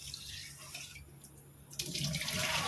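Potatoes being rinsed under a running kitchen tap, water splashing into a sink, with the flow swelling louder near the end; no voices.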